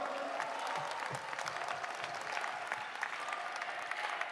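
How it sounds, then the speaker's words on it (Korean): Sustained, fairly distant applause fills the hall at a campaign committee launch, a steady wash of many hands clapping throughout, with some faint voices underneath. "힘찬 연설해 주신 김혜경 선대위원장님에게 다시 한번 뜨거운 박수 보내주시기 바랍니다"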